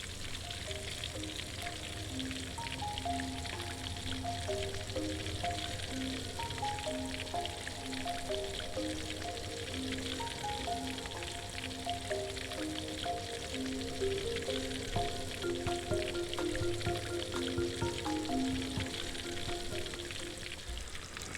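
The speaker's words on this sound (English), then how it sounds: "While the fish is frying, make sure you baste it with the hot oil" Fish fries in hot oil while being basted, a steady crackling sizzle with dense popping spatter that runs unbroken at moderate loudness, with faint clinks of utensils under it and no voices.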